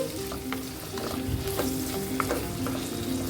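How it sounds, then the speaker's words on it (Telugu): Large brinjal pieces and onions fry together in a pan, making a constant loud sizzle with soft clicks from stirring throughout, close by and with no talking. "వంకాయ ముక్కలతో పాటు ఉల్లిపాయలు కూడా ఫ్రై అవుతాయండి"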